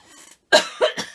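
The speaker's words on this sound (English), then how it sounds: "I just need to have a little cough" A single person coughs close by: one sharp burst followed by two smaller coughs, at a pause in a Christmas papercraft session making Santa and elf paperclips.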